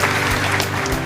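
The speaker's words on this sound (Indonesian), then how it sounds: "Mari kita berikan tepuk tangan yang paling meriah buat Tuhan Yesus." Lively applause from a congregation at an online church service fills a short burst, dense and steady throughout, with no voices standing out.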